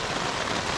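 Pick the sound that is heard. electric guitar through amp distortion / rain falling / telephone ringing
rain falling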